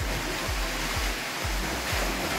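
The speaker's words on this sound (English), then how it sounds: "A few waves out here." Broad, steady rush of ocean waves and wind at sea aboard a sailing boat, with a low rhythmic thump about twice a second beneath the noise.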